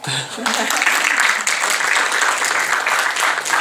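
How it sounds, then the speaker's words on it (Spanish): An audience at a talk on writers as agents of change, held at a book fair expo, breaks into steady applause that carries on for several seconds, fairly close and full, with some voices mixed in. "Un aplauso."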